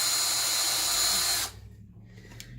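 A power drill boring a starter hole in soft pine, a steady loud whine that cuts off abruptly partway through and leaves a quiet room.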